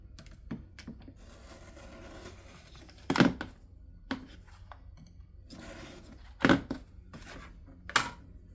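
Quilting fabric for flying geese units being cut apart, a series of crisp snipping and chopping clicks at irregular intervals, a few louder cuts standing out, close and without talk.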